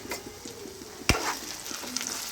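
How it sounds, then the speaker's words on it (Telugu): A spoon stirs fenugreek, potato and tomato curry in a pan, giving a soft sizzle and gentle scraping, with one sharp knock of the utensil against the pan partway through. "ఇలా మధ్యలో కలుపుతూ ఉండండి, కింద మారిపోకుండా చూసుకోండి"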